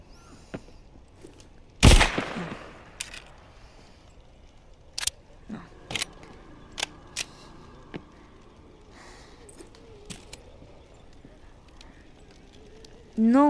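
Gunfire in The Walking Dead VR game: one loud blast followed by scattered sharp single shots at irregular intervals, with quiet gaps between them and a voice talking around them.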